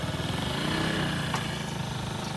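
Honda Ruckus 50 scooter with a stock GET motor and an aftermarket EFI fuel injection kit, idling steadily close by with a continuous even drone and no pauses, heard alone with no talk.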